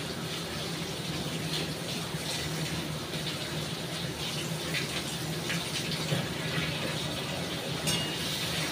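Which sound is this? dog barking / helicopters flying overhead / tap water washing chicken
tap water washing chicken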